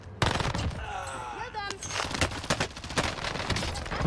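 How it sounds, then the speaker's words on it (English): Rapid submachine-gun hipfire bursts in Warzone on Rebirth Island, loud and close, with a voice talking over the shots. "But look at the hipfire."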